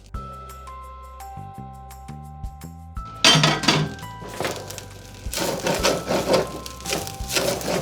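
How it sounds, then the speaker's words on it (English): A few seconds of quiet tones, then loud clattering and scraping of a spatula stir-frying vegetable fried rice in a hot pan, continuing busily to the end. "And now I'm gonna add the rest of the rice."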